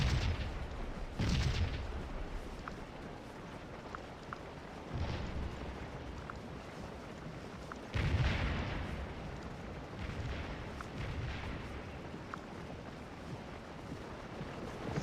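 Artillery in a Civil War video game booms in several deep, low blasts: a few heavy thuds early, then a strong one near the middle, over a rumbling, wind-like battlefield background.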